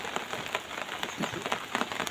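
Morning rain falls during a storm, a steady dense hiss with scattered louder drop patters, continuous and close.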